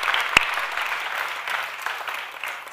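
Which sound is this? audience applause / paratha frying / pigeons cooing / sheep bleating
audience applause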